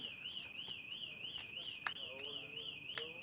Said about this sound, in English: There's our fire alarm again, by the way, for you guys.